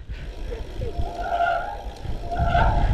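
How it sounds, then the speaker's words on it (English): Wet gravel bicycle disc brakes squeal in two drawn-out, high-pitched bursts from condensation, over steady wind and rolling noise, close by, on a foggy ride in Dorset. "Condensation on the disc brakes, making them squeal."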